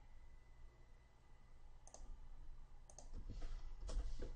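Computer keyboard typing, a few soft key clicks rising in a short burst near the end over a steady low hum, fairly quiet and close.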